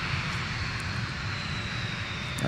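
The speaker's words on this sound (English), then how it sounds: "here's Delta from Mexico City. I think this is flight 605 now touching" A Delta airliner from Mexico City touches down at Minneapolis–St. Paul airport, a steady, fairly faint jet engine roar heard from a distance with a constant broadband rush and no voices.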